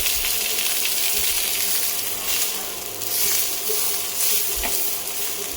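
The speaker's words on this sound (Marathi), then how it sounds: "हा कांदा आपल्याला छान असा ब्राऊन होईपर्यंत भाजून घ्यायचा आहे" Chopped onions for a village-style mutton curry sizzle in oil in a pan, a steady close broadband fry with a few soft clinks and stirring scrapes.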